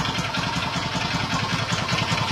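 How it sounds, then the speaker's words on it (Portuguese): Motorcycle engine idling with a worn connecting rod knocking, a steady close, loud rhythmic clatter repeating rapidly over the low engine drone without pause. "o motor tava fazendo aquele barulho lá, aquele barulho infernal que vocês podem ver aí no vídeo"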